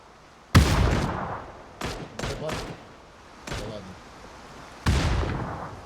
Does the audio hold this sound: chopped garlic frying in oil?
no